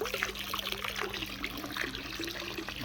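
Virkon Aquatic disinfectant poured gently into a garden pond, giving a steady close trickle and splash of liquid over a faint constant hum, with no talking.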